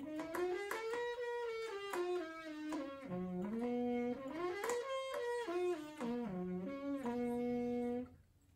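Trumpet played through a Best Brass practice mute, a muffled, close melodic line of connected notes rising and falling at moderate volume for about eight seconds, with no talking.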